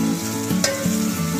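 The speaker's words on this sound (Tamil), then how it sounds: "நல்லா பச்சை மிளகாய் போற வரைக்கும் நல்லா வதக்குங்க" Ginger garlic paste and green chillies sautéing in oil for a chicken gravy, a brief continuous sizzle with a low hum and soft scraping of stirring, no talking.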